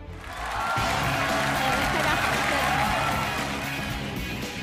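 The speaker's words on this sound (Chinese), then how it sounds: "掌声有请宋喜" A studio audience on a televised talent show bursts into loud, sustained applause and cheering as a contestant walks on stage, a dense wash of clapping that swells and holds.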